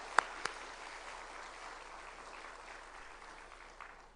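Applause from a church congregation honoring a children's choir, a steady soft wash of many hands clapping at moderate distance, with a couple of sharper claps near the start.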